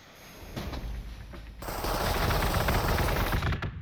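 Rapid, sustained automatic gunfire from Warhammer 40,000: Gladius, a dense loud burst of shots that starts faintly and then swells into a continuous rattle, with no speech.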